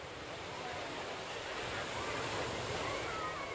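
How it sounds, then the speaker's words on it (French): Ocean waves wash onto a beach in a steady, broad roar of surf that swells slightly and continues without break, with no talk. "les vagues vont et viennent"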